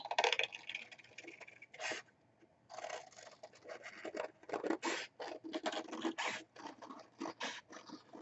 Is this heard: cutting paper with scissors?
yes